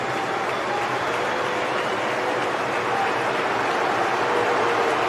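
A dense football stadium crowd roars and applauds steadily after Bellingham equalises at 2-2 for England, a broad continuous wash of cheering with no breaks.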